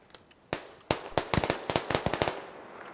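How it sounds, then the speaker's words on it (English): Rapid gunfire in the video game Squad, a string of sharp cracks with irregular spacing, single shots at first, then a dense burst of repeated reports, fairly loud over a quiet background. "He's shooting the radio here now"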